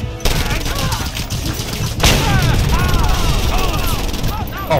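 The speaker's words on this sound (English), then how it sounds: "Oh, a shot." Rapid bursts of gunfire and explosions fill a chaotic Just Cause 2 video game firefight, loud and dense throughout, with a sharp blast near the middle and someone talking over the action.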